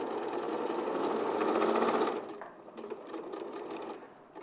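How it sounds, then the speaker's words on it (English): A sewing machine stitches in a fast, steady whir for about two seconds, then slows to lighter, intermittent running, heard close and with no talk. "can I round up while Joe's still sewing"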